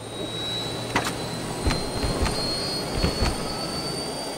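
Harrier jet engine in the video game Just Cause 2, a steady roaring whine with a high tonal line, broken by several sharp clicks and thumps.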